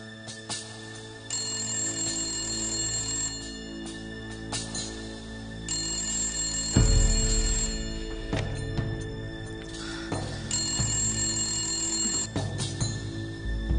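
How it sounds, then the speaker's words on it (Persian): A telephone rings in bursts, with clear electronic trills repeating at regular intervals, loud and near, with some thumping handling noises in between. "تلفن زنگ میزند."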